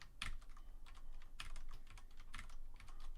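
Keys on a computer keyboard tap quietly in an irregular run of light clicks and clusters, soft and close with no talking.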